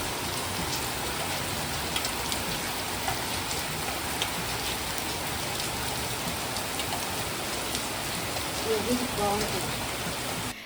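Heavy rain pours down in a dense, steady roar, with large drops pattering hard on surfaces like falling stones in an evening downpour, unbroken for the whole stretch.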